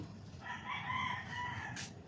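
A rooster crows once, faint and somewhat distant, against a low background hum.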